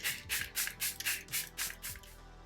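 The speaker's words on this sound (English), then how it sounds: "I'll just set my foundation with the Airbrush Flawless Setting Spray from Charlotte Tilbury" Charlotte Tilbury Airbrush Flawless Setting Spray is misted onto a face in about eight quick hissing bursts, close and evenly spaced, with no talking.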